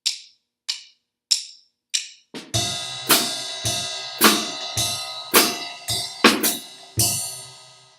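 A jazz drum beat opens with four sparse hi-hat ticks, then a swinging groove of ride cymbal and hi-hat with sharp woody rim clicks on the snare, played close and clear with no talk.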